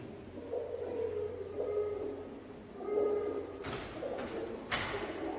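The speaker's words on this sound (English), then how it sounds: "Is that a pigeon?" A pigeon coos in low repeated calls inside an old, echoing church building, moderately close against steady background noise, followed by a couple of brief sharp rustles.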